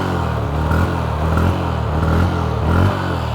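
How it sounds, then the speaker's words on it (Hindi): Honda Hornet CB 125 motorcycle idles close by with a steady, throbbing engine and exhaust note and a few slight throttle blips, with no talking. "ये लो आइडियल कंडीशन पर engine sound, exhaust note, throttle देता हूँ।"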